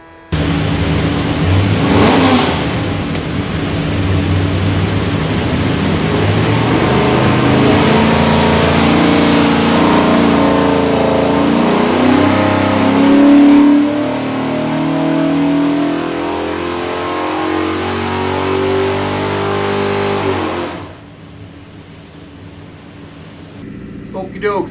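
A 427 cubic inch small block Ford V8 with a custom hydraulic roller cam and rear sump oil pan runs loud and steady on a dyno, roaring continuously for about twenty seconds before dropping off, with talk underneath.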